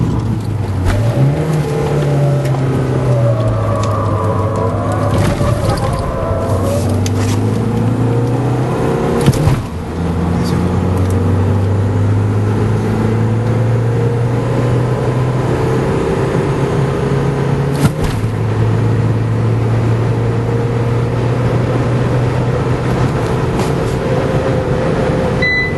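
A Mahindra XUV500 SUV races around the BIC F1 track, its engine droning steadily and loud from inside the cabin as revs rise and fall with each gear change.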